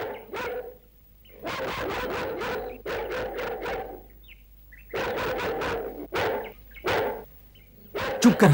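A dog of Hastinapur barks in rapid, loud bursts of several yaps each, separated by short pauses, with faint bird chirps in the background.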